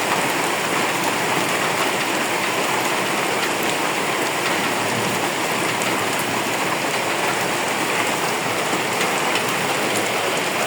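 Steady, heavy rain falls outside a nearly finished rural house, a dense continuous hiss of drops on surfaces that stays even and close throughout, with no voices.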